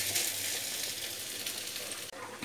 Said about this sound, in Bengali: আর ভালো করে এবার আমি ঘিয়ের সাথে চালটাকে ভেজে নেব